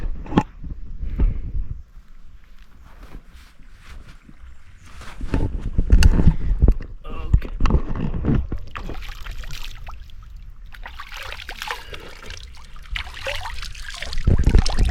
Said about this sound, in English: let me actually wash my face